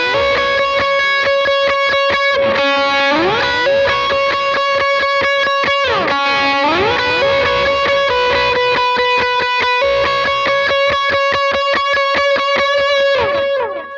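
Overdriven electric guitar plays a worship song's bridge slowly, with sustained distorted chords and sliding notes ringing over steady picked rhythm, loud and continuous with no talking.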